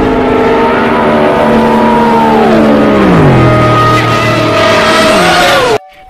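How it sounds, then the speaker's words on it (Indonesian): A toy race car gives off a loud, continuous electronic engine whine whose stacked tones hold steady, then slide downward in steps, and it cuts off abruptly at the end. "Wush, ini adalah mobil balap, teman-teman."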